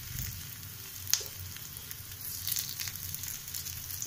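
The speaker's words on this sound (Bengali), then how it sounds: "এরপর 3 থেকে 4 মিনিট মিডিয়াম ফ্লেমে ফ্রাই করে নেব।" Chow noodle cutlets fry in oil over a medium flame, giving a steady close sizzle with a sharp pop just after the first second and no talking.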